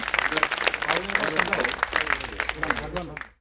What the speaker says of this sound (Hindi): जोरदार तालियों से स्वागत, जोरदार तालियों से आप स्वागत करेंगे।